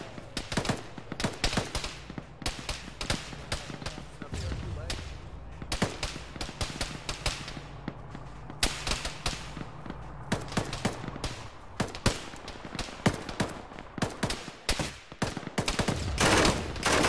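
Gunfire in a military video game: dense, continuous battlefield shooting with rapid automatic bursts and single cracks layered at varying distances, building louder toward the end.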